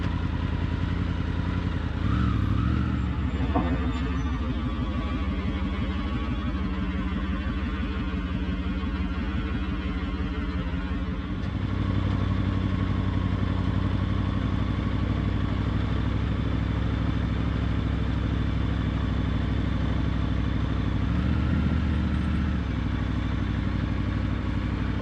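A Triumph Tiger 900 motorcycle rides a rough country road in the Victorian High Country, its engine droning loud and steady from up close under wind rush, with slight shifts in pitch and occasional clatter.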